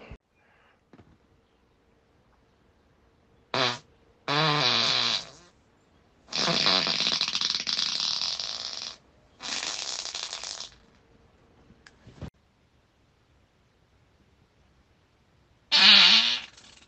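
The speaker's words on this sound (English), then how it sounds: "I'm doing silent farts so fucking rich you could taste them" Several long farts come in separate bursts of a few seconds each, raspy and buzzing, with near silence between them and one last burst near the end.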